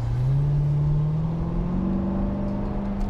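A 2014 Chevrolet C7 Corvette pulls away on the road, its engine droning loudly and steadily with a low tone that climbs gradually in pitch as it accelerates, heard close up with no talking.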